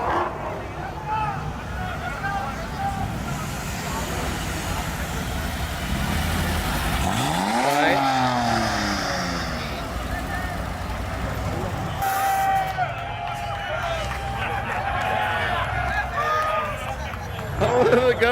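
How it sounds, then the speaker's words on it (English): A go-kart engine revs with thin-tired wheels, a rising and falling buzzy whine that sweeps up sharply near the middle. People talk and react loudly over it throughout. "Oh, the go-kart. Rev it! Rev it!"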